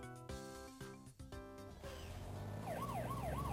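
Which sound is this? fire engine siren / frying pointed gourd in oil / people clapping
fire engine siren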